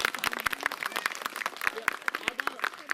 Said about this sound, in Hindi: ताली बजा दो एक बार जोर से।